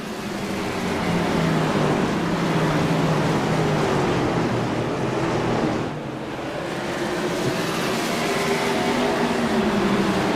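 Stock race cars circle Stafford Motor Speedway in a dense, continuous engine roar that stays loud throughout, briefly dipping near the middle before the pack swells back.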